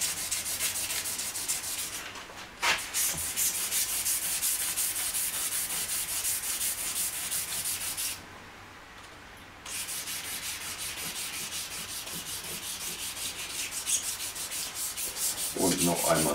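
Hand sanding runs along the edges of a licence plate holder, a steady close-up scraping rub that stops briefly partway through and then continues evenly.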